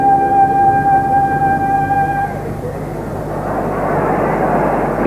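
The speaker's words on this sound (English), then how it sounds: "Planes are leaving Abbotssinch and Prestwick every few minutes through the night" Propeller airliners climb out of Abbotsinch and Prestwick airports at night during a football supporters' airlift, a loud sustained engine drone with steady whining tones that then shifts into a broad roaring wash.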